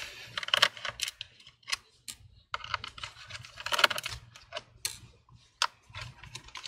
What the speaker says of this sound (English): Let's go ahead and remove the screws.